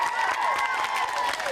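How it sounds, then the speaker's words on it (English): Audience applause with dense clapping and cheering, mixed with bright excited children's voices, sustained and loud through the brief moment. "A round of applause"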